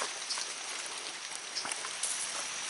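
Light rain falling outdoors, a faint, steady hiss of fine drops with occasional soft patters, continuous and even throughout.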